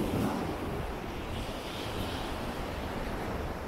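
Steady broadband wash of surf at a South Florida beach with the tide going out, a continuous, fairly loud roar of water and wind without distinct breaks or voices.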